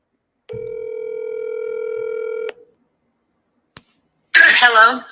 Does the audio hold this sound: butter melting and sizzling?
no